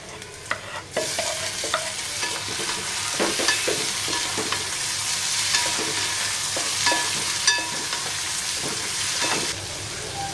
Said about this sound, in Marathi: कांदा छान परतलेला आहे बघा. टोमॅटो घालूया.